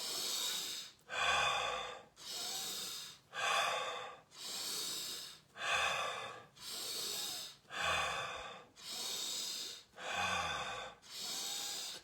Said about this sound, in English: continue breathing in your own rhythm